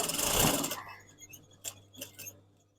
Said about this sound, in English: I'm just going to start stitching round the outside, leaving the seam allowance